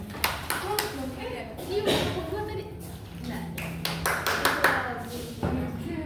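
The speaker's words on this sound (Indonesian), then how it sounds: "Aplaus untuk temannya." Classmates applauding during a microteaching class, a few scattered claps and taps that stay sparse and fairly faint beneath a teacher talking throughout.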